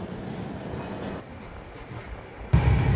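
Train passing at night beside a Rajdhani Express on the New Delhi to Dibrugarh route: a steady rumbling rush of wheels and carriages, with a sudden louder, heavier low rumble near the end.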